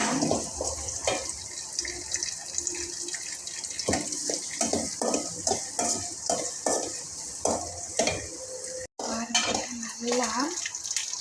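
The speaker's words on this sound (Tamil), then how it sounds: "வெங்காயம் வதங்கிடுச்சு" Onions sizzle and hiss frying in a pan while a utensil clatters and scrapes through them in frequent stirs, with brief clanks of metal nearby.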